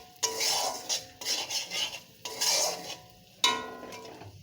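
Spices are stirred in a metal pan with a spoon, making sharp scraping and clinking strokes. Four distinct bursts come at a steady rhythm with short pauses between them, close and clear and without any voices.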